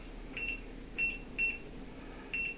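An oven timer beeps while being set, giving four short, thin electronic beeps at irregular intervals over a low background hum in a kitchen during a pizza cook.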